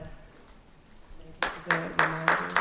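A few scattered audience claps at a teen panel discussion, several sharp distinct hand claps in quick succession starting partway through, near and fairly loud after a quieter stretch.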